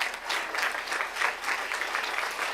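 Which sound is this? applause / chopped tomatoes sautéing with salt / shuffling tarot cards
applause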